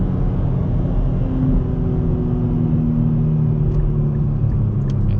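A Nissan Z Sport's engine drones loud and close from inside the car as the driver downshifts through the gears with the paddle shifters, a continuous rumbling note that rises slightly in pitch partway through.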